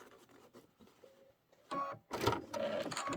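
A sewing machine backstitches in short bursts: faint clicks at first, then two louder mechanical whirring runs close by, with no talking.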